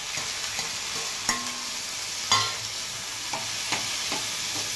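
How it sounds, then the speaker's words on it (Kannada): Three onions and two tomatoes fry together in a pan, a steady hiss of sizzling with occasional distinct spatula taps and scrapes as the mix is stirred. "ಇವಾಗ ಟೊಮೊಟೊ ಹಾಕ್ಕೊತೀನಿ. 3 ಈರುಳ್ಳಿ ಹಾಕಿದ್ದೀನಿ, 2 ಟೊಮೊಟೊ ಹಾಕ್ಕೊತಾ ಇದ್ದೀನಿ."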